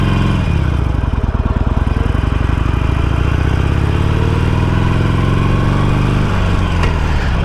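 A Harley-Davidson Iron 883 motorcycle on the road, its V-twin engine droning steadily and loud with a fast, even pulsing rumble throughout, plus wind noise and a slight shift in tone near the end.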